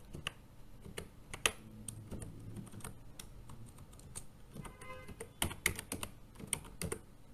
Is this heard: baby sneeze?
no